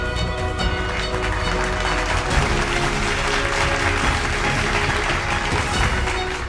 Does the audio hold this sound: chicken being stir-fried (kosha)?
no